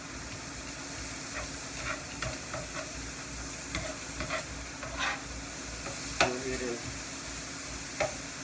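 Cheesesteak meat and vegetables sizzle and simmer in a pan, a steady low frying hiss with occasional scrapes and light clinks of stirring spaced through it, no talking.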